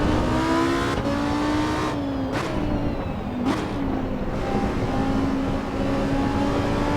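A Lamborghini Huracan STO engine at full throttle, loud and close, climbing in pitch with brief dips at gear changes before holding a high, steady roar.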